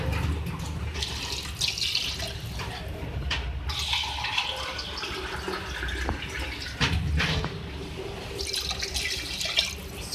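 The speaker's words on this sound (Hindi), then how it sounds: "अब इसके बाद जो है मैं इसमें जो है ऐड करूँगी वाटर मैं इसमें 2 ग्लास ले रही हूँ।" Two glasses of water are poured into mutton in a cooking pot, a steady splashing stream that runs through most of the stretch with a few louder gushes, fairly quiet and with no talking.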